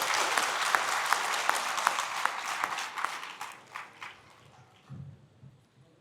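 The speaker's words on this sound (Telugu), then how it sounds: "కమిటీ సభ్యులకు, పెద్దలకు ఒకసారి గట్టిగా చప్పట్లు కొట్టారు." A lecture audience at a gathering gives dense, sustained applause for committee members and elders. It stays loud and steady for about three seconds, then thins into scattered claps and fades away.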